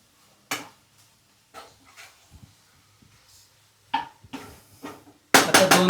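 Drumstick (moringa pod) curry with spices gets stirred in a pan, with a few sharp metal-on-pan scrapes and clanks spaced apart, louder toward the end, separated by near silence.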